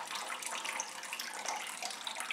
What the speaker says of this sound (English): There is water flowing down here, and even on this third window you have proper water distribution.